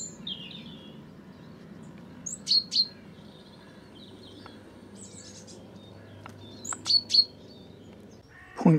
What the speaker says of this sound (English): Great tit there, sounding very much like a chaffinch.